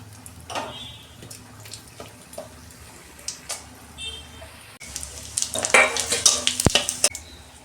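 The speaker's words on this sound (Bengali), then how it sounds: "একটা তেজপাতা, একটা শুকনো লঙ্কা, ডালচিনি, এলাচ, লবঙ্গ আর অল্প জিরে তেলের মধ্যে দিয়ে দেবো আমি" Whole spices and cumin frying in oil in a wok: a soft background sizzle with scattered clicks and taps, turning into louder, denser crackling and spattering in the second half.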